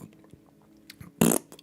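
A short, breathy raspberry imitating a fart bursts out after a few soft mouth clicks, loud and brief.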